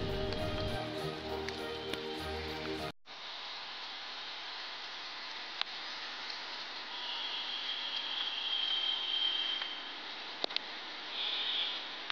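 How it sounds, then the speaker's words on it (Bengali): Light drizzle falls outdoors in a flower garden, a soft steady hiss with faint scattered drops after a few seconds of music. "ঝিরিঝিরি বৃষ্টিও পড়ছে।"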